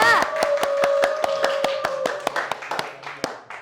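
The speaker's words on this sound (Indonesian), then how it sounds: "Lagi dong, tepuk tangan dulu untuk Ayu Aulia." Sparse, rhythmic clapping from a small studio audience for Ayu Aulia, distinct individual claps at a steady beat with a sustained voiced tone over the first two seconds.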